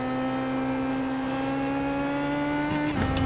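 Indy Pro 2000 open-wheel race car in the iRacing simulator, its engine holding a steady, loud, buzzing drone at high revs and climbing only slowly before a sudden drop near the end, as if shifting or lifting.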